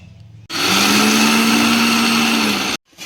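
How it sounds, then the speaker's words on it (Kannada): A kitchen mixer grinder whirs loudly as it grinds peanuts and jaggery for peanut sambar, starting abruptly, holding a steady high-pitched motor whine for about two seconds, then cutting off sharply. "ಈಗ ಇದು ಹಾಕಿ ನಾವು ಮಿಕ್ಸಿಗೆ ಹಾಕೋಣ."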